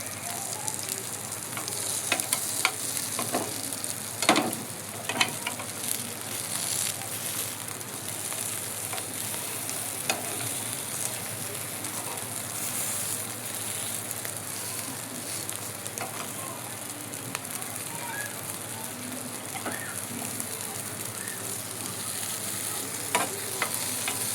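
Medu vada frying in oil over a medium-low flame keep up a dense, steady crackling sizzle for a long stretch, scattered with small pops and occasional utensil taps, with no speech over it.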